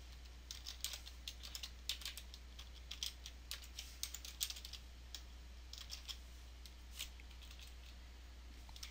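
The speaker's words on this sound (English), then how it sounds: "and start typing in" Quiet, irregular keystrokes on a computer keyboard while typing text into GIMP, small clicks in quick bursts over a low steady hum.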